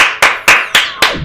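Five sharp, loud claps spaced about a quarter second apart, each a bright broadband crack with a short decay, no voices.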